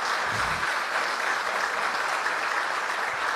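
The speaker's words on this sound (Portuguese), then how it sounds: "Pode dar uma salva de palmas aí para Jesus" A church congregation claps steadily for Jesus, a dense, even roar of many hands that holds at a constant level throughout, with no speech over it.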